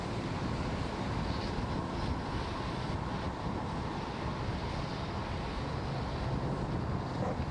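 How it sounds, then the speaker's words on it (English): The Merlin engines of a SpaceX Falcon 9 climbing through max Q on a Starlink launch make a steady, distant, broadband roar with a wind-like rumble, and no voices are heard. "we just went through max Q, and the vehicle is now supersonic, and Merlin engines have throttled back up"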